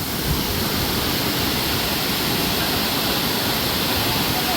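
A waterfall in a remote forest gives a loud, steady, unbroken roar of rushing water that fills the whole stretch with dense broadband noise.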